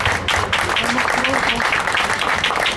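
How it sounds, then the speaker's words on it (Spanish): An audience at a Mexican cultural caravan talk applauds a guest speaker, dense, sustained clapping filling the room at close range, with voices mixed in under it. "le agradecemos a Pedro Miguel, un aplauso por habernos acompañado aquí."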